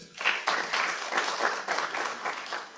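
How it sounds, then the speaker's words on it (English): A room of newly licensed professionals at a practice-license award congregation claps for themselves, a moderate burst of hand claps with audible individual rhythmic pulses, fairly close and without talk. "Can you clap for yourself?"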